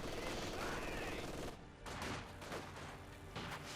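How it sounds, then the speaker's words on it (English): An MG42 machine gun in the strategy game Company of Heroes 2 rattles off continuous fast bursts, quiet and somewhat distant within the battle noise, with a voice talking over it. "Guardsmen there suffering the wrath of the MD42."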